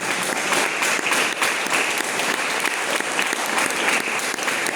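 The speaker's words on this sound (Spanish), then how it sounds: "¿Cuántos le dan un aplauso al Señor?" A church congregation breaks into loud, sustained applause, dense clapping from many hands continuing evenly for several seconds without a break.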